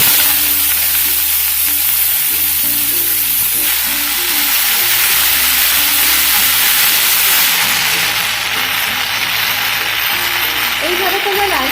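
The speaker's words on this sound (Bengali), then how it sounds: "এবার আমি লাল শাকটা তেলের মধ্যে দিয়ে দেবো।" Red spinach hits hot oil with dried chillies already fried in it, giving a loud, steady sizzle and hiss with stirring scrapes, while a voice talks over it.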